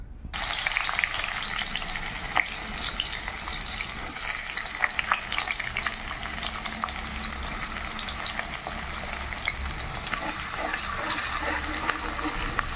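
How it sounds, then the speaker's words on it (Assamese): Onion frying in hot oil for a chicken recipe, a steady close sizzle and crackle running throughout with occasional pops and a faint stir, no talking. "পিঁয়াজটো অকণমান দি ফ্ৰাই কৰিম।"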